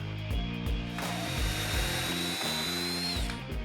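A power drill with a long bit drives screws into wood, whirring loudly in repeated short bursts that rise and fall in pitch as each screw bites.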